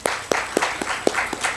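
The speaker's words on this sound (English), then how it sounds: "I think that deserves an applause." A handful of sharp, separate hand claps, sparse and irregular, like a small scattered group applauding briefly at a literature and art festival talk.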